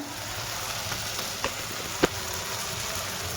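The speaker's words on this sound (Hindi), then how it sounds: "ये लग रहा है तड़का," Spices in a tadka crackle and sizzle in hot oil with a constant loud hiss, broken by a couple of sharp pops.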